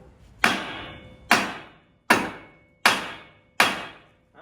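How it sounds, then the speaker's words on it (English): A heavy hammer strikes a bad wheel bearing on a Honda Element five times at a steady pace, each loud metallic blow close by and ringing briefly before the next. "I'm going to give it a few motivated swacks."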